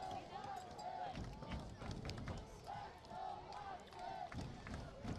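Oswego East home football crowd, parents included, chanting a player's name in a repeated rhythmic call at a game against Yorkville, steady and fairly distant over the stadium's general crowd noise.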